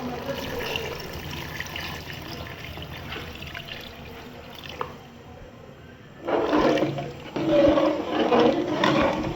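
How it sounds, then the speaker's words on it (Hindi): Water from a glass poured into a pot of mutton korma in an Instant Pot, coming as two loud splashing gushes late in the clip after quieter kitchen sounds. "अब हम इसमें 3-4 गिलास पानी डालेंगे"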